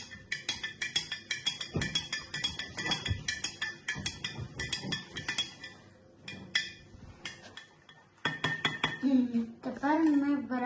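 Spoon stirring homemade yogurt in a pot, rapid metallic clinks and scrapes against the pot's sides, close and repeated in quick bursts, with a voice speaking briefly near the end.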